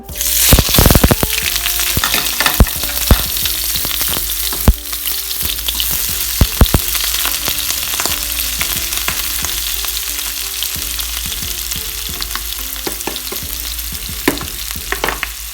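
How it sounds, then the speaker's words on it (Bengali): Chopped onions dropped into hot oil for a salmon curry, a loud, dense, continuous sizzle and crackle with sharp pops and spatters throughout, close by and alone. "তো আমার তেলটা গরম হয়ে গেছে আমি এখানে আমার কেটে রাখা এই পেঁয়াজগুলো সব দিয়ে দিব"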